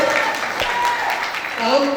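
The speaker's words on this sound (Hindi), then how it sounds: "आप लोगों की जोरदार तालियां, जोरदार सीटियां और हुक्म के बीच में मैं चाहूंगा कि हम गुलाटी साहब को थोड़ा कष्" An audience at a success celebration event claps and whistles, a short burst of applause with raised cheering tones mixed into the crowd noise.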